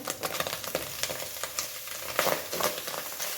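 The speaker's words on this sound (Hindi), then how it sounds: "इसको भी हल्का सा उसी के साथ ही थोड़ा सा भून लेंगे।" Shredded boiled chicken frying in a pan: close, crackling sizzle broken by quick scraping and tossing strokes as it is stirred, with no voices.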